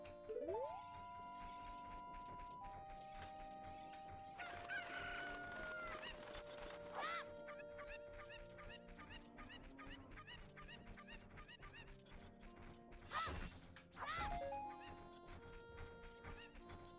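Chiptune crowing and clucking from rooster sounds in an NES video game, layered over a steady electronic music loop, with sharper squawk bursts near the middle and toward the end.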